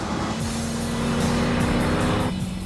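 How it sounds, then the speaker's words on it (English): A Lamborghini Diablo GT engine roars steadily at high revs on a track, loud and close, with a constant droning tone and a slight shift in pitch near the end. "The engine a bit empty, still making plenty of noise."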